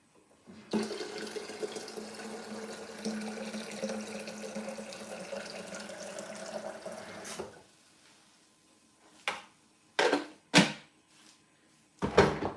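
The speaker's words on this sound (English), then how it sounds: "And then we're gonna add some water." Water streams steadily for several seconds into a bread dough mixture for Ghana butter bread, then stops, followed by a few sharp knocks and clatters of kitchen utensils nearby.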